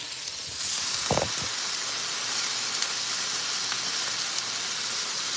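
Food searing in a hot pan, a steady loud sizzle and hiss throughout with a couple of brief low thumps near the start, close and without talk.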